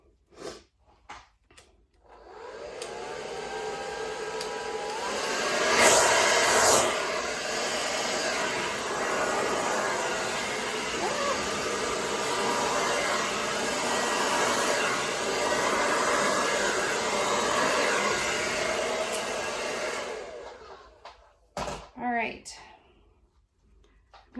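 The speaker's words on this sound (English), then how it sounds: "So first we're going to blow the white over the paint and then blow the paint back out." Steady blowing airflow from a blower drives wet acrylic paint across a canvas in a Dutch pour, a continuous close whooshing hiss that lasts about eighteen seconds with brief handling noises before and after.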